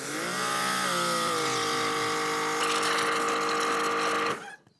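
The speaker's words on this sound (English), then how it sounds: "now we're gonna go ahead and move on with the GPM test with the 15-degree nozzle, sticking it into the bucket." Dewalt 3000 psi electric pressure washer running steadily with a 15-degree nozzle spraying into a bucket, a loud continuous motor and pump whine holding for about four seconds before cutting off abruptly.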